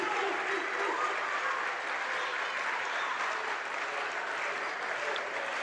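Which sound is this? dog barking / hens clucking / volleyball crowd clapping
volleyball crowd clapping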